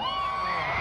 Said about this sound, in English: let me hear you scream if you're out there on the lawn.